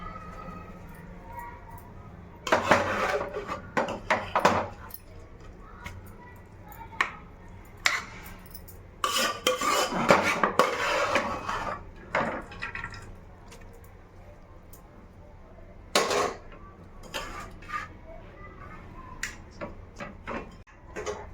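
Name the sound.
adding rice into a cooker for chicken biryani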